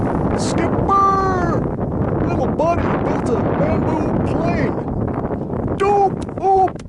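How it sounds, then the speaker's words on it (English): Strong wind buffeting a microphone outdoors, a continuous roaring rush throughout with a person exclaiming and talking over it. "Woo, it's windy out here."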